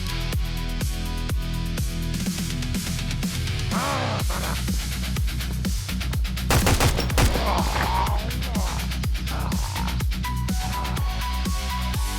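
An assault rifle in the video game Road to Vostok fires loud, evenly spaced rapid shots in long sustained full-auto strings, close and continuous throughout with no talking.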